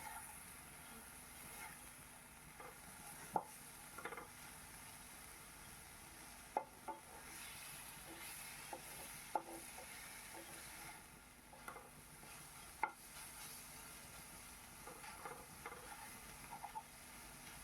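Jute leaves are stirred and fried in a pan for a soup, with a faint, continuous sizzle broken by sharp scrapes and taps of the spatula at irregular intervals.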